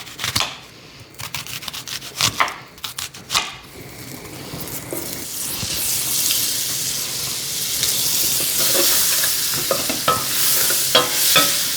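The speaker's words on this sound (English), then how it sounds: "And then we're gonna saute the onion in the pan and start building our flavor." Sliced onion is stirred in a saucepan with a few sharp clatters at first, then settles into a loud, steady sauté sizzle with occasional utensil scrapes.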